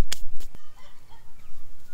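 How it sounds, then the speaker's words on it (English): Chickens kept for laying eggs cluck close by in short, sharp bursts, a few quick calls followed by softer scattered clucking, with no voices. "And we have chickens laying eggs."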